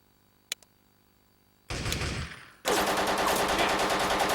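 Gunfire from an Xbox military shooter video game: a sharp single shot near the start, then a dense burst of automatic fire that fades, followed by a loud sustained fusillade to the end.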